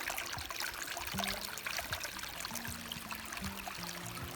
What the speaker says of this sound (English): listen to the sound of the babbling brook all day